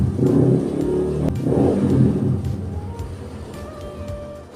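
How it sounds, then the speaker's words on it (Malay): A motorcycle engine passes close by, loud at first with a revving rise, then fading away steadily as it moves off into the distance. "bunyi motor, sebab tu saya stop"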